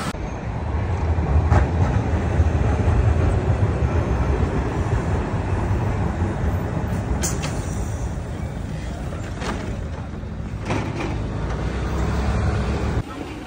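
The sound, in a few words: train ride from the Milan airport to Milano Centrale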